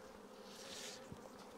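Honey bees buzzing around a hive in an apiary, a steady faint drone of many wings close by with no talking.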